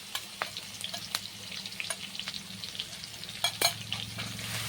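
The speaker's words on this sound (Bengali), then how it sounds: "দেখো এখানে নিয়েছি 2 চামচ গ্রেট করা রসুনটা দিয়ে দিচ্ছি" Grated garlic sizzles and fries in hot oil in a pan for a chicken kosha, a steady close crackle with a few sharper spits and stirring clinks, no voices.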